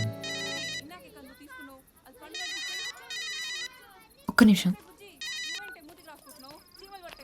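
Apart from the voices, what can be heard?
phone ringing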